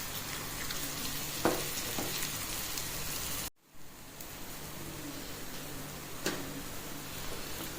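Onions and green chillies fry in oil for a green chilli kuzhambu, giving a steady close hiss with a few soft stirring taps and a brief dropout partway through, no voices.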